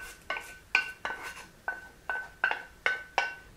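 Chopped peppers and garlic tipped into a bowl, giving a run of about nine bright clinks and scrapes of a utensil against the dish at a steady, uneven pace.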